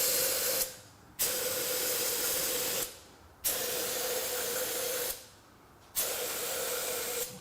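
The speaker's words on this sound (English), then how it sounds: "we're going to spray some brake clean down the intake ports, and I'll show you how they leak" Brake cleaner from an aerosol can sprayed into the intake ports of a Chevrolet Camaro 6.2L engine: three long, steady hissing bursts, each a few seconds, separated by short quiet gaps, close and fairly loud with no voices.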